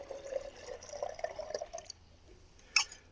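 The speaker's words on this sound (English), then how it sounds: "If you take that cold water while the coffee is still hot, and you just pour that in there" Cold water is poured into hot campfire coffee, heard as small trickling and dripping splashes that come close and fairly faint, ending with a brief brighter splash.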